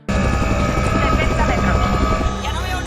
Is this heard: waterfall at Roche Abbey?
no